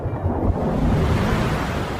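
A violent storm churning the open sea near Athens, with continuous heavy surf and roaring wind that stay loud and steady throughout.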